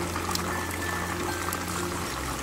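Fritters frying in hot oil in a home kitchen, a steady soft bubbling and sizzling hiss with faint crackles, continuous and fairly quiet throughout.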